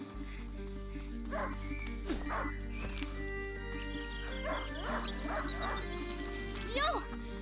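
A hunting dog in the video game A Plague Tale Innocence barks several times in short irregular bursts at a moderate distance, over a steady ambient hum, with a voice speaking alongside.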